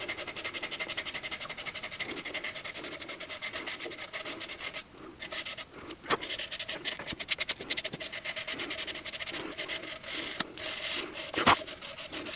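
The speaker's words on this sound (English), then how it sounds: "trim that down a little bit more and then start sanding." Steady scratchy rubbing of sandpaper on a saxophone neck cork, continuous and close, with a few sharper scrapes near the end.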